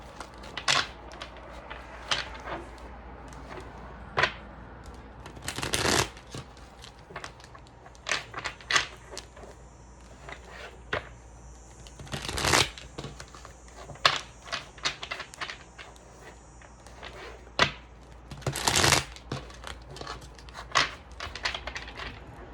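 A deck of oracle cards shuffled by hand close up: repeated crisp riffling snaps and soft slides come in short bursts, with sharper louder riffles around a few moments and quiet handling between, no talking.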